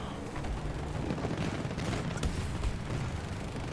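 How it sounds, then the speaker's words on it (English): Light machine gun laying down suppressive fire in Battlefield 2042, a sustained rattle of rapid shots with booming battlefield rumble underneath, steady and fairly loud with no speech. "It's so funny what a freaking LMG suppressive fire can do."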